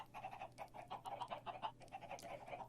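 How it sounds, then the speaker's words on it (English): Chickens cluck repeatedly in short, quiet bursts in a Minecraft survival multiplayer game, many birds overlapping in an irregular rhythm over faint background hum. "Can you hear all the chickens?"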